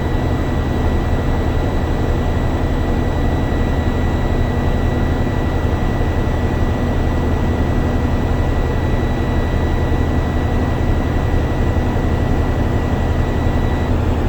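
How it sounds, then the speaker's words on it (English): A Class A truck engine with an Eaton 10-speed gearbox is held at about 1200 to 1400 rpm during an air brake test, producing a loud, unbroken low drone with a thin steady whine above it and no talking. "Now revving my engine between 12 and 1400."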